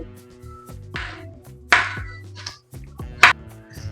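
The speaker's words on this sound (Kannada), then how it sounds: "ಇದು ಜಸ್ಟ್ ಇದು ಗ್ರೈಂಡ್ ಮಾಡಕ್ಕಂತ ನಾನು ಸ್ವಲ್ಪ ದೊಡ್ಡದಾಗಿ ಕಟ್ ಮಾಡ್ಕೋತಾ ಇದ್ದೀನಿ ಅಷ್ಟೇ." A knife cuts food into large chunks for grinding in a home kitchen, giving a few separate sharp chops and scrapes against a board, with clear pauses between them and nobody talking.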